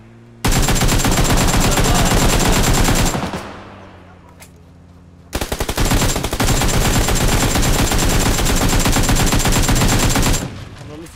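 Long bursts of rapid automatic gunfire in the video game PUBG Lite, loud and close, with a sustained volley, a brief pause, then a second extended stream of shots.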